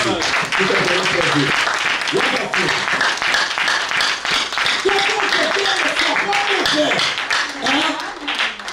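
A church congregation applauds for the Lord Jesus, a steady wash of clapping from many hands running the whole time, with voices and singing-like tones rising over it.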